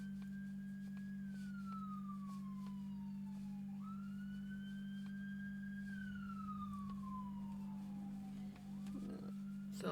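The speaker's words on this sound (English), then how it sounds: "Sound like an ambulance." A wailing siren sweeps slowly up and down in pitch, loud and steady over a constant low engine hum, like an ambulance passing close by.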